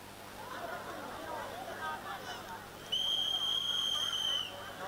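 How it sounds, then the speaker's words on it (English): A long, shrill whistle blast sounds over a murmuring crowd at an indoor swim meet in Kingston, Jamaica, holding steady for nearly two seconds in the large echoing space. "That is the whistle, so the swimmers are taking the blocks."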